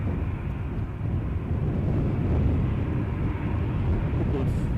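A jet departs Edinburgh airport in gusty wind, its distant steady roar mixed with buffeting wind noise on the microphone, continuous and fairly low in level.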